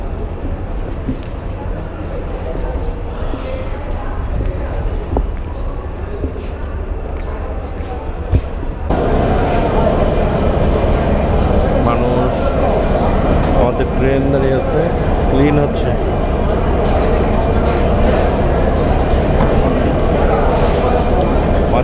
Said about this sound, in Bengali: বন্ধুরা আমাদের ট্রেন এখন প্ল্যাটফর্মে চলে আসছে